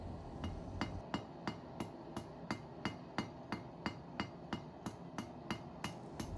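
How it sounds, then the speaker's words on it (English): Steady, evenly spaced hammer blows on bronze against an anvil ring out about three per second, close and clear, with no talking. "Notice how I hammer in the same spot."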